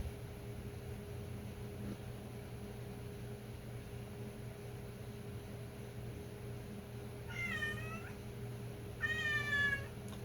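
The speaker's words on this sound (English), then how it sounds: "What, kitty cat?" A cat meows twice near the end, two short rising-falling calls a second or so apart, over a steady low electrical hum and faint room noise.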